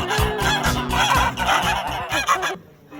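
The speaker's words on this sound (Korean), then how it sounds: "닭들도 나를 맞아주네." Fowl at a Camino de Santiago pilgrim hostel in Los Arcos, Spain, call loudly and close by in rapid, repeated honking bursts, several birds overlapping before the sound cuts off.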